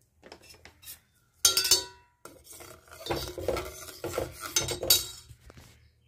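A spoon stirs oats porridge with milk in a pot, making intermittent scraping and knocking strokes, faint at first and then busier and louder in uneven bursts.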